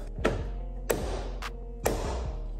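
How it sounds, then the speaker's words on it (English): Plastic clips popping loose as the door card is pried off a BMW F34 340i GT: three sharp snaps with a softer knock between them, close up and otherwise quiet. "Let's continue popping the door card off."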